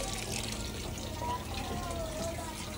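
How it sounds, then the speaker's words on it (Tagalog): Steady rushing of water from a tap, constant and fairly close, with a faint voice murmuring under the flow. "Nagpaagas ko og tubig."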